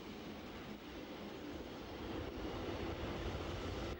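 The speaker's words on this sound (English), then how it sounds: "At 1622, a semi-fast train from Scuol runs in behind a 40-year-old GE 441." A semi-fast train from Scuol runs in behind an elderly GE 441 electric locomotive, a steady broad rumble and rolling noise holding constant and close for the whole stretch with no talk.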